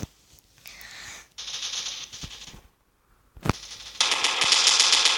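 Automatic gunfire from a weapon in a video game comes in rapid rattling bursts, with a short pause and then a longer sustained burst near the end, fairly close and with no speech.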